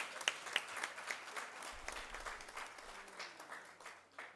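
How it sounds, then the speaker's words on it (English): Faint, scattered applause from an audience at the official opening of the SPPM Congress, uneven claps rising and falling at a distance with low rumble underneath. "let's give a round of applause."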